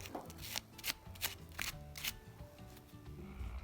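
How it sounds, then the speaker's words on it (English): A blade scrapes zinc off the separator inside a disassembled AA alkaline battery, making a series of short, close, scratchy strokes in an uneven rhythm. "I'll scrape the zinc away from the separator."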